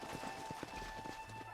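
Horses' hooves clip-clop in a quick, uneven patter in the Western video game Red Dead Redemption, set against a steady tonal hum of game ambience, with no talking.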